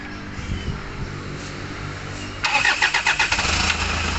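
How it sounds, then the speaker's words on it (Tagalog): A 2004 Hyundai Santa Fe engine, previously stalling and low on power, cranks with a few rapid starter pulses, then catches and settles into a steady, even idle close by. "na ang andar ng makina ngayon ay talagang smooth na"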